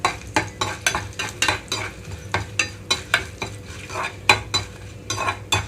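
Tempering spices and asafoetida sizzle and crackle in hot oil, with repeated stirring scrapes against the pan in a steady rhythm. No voices.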